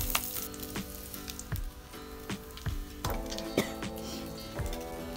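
Meat fries in a pan until crispy, sizzling and crackling up close with repeated sharp pops and clacks of stirring or utensil taps over the steady sizzle.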